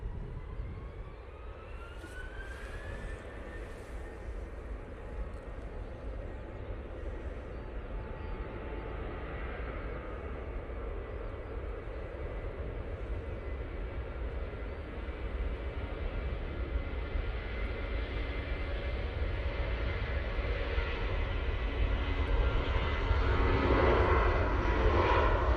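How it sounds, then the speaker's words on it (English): Jet engines on a Vueling airliner spool up for takeoff at Manchester Airport, a broad, distant roar that swells slowly and steadily, with a rising whine audible over it. "I'm going to go and get the Vueling because it is spooling up"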